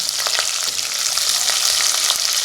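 Two sliced onions frying in hot oil with fennel seeds, a steady bright sizzle with occasional crackles and stirring clicks, close and continuous with no voices.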